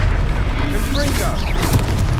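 A Confringo spell blast in the game Hogwarts Legacy, a loud booming burst under steady combat noise, with voices calling out around it.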